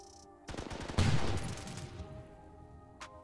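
Gunfire in the H-Hour video game during a raid: a dense burst of automatic shots erupts, peaks sharply, then trails off, with one lone shot near the end.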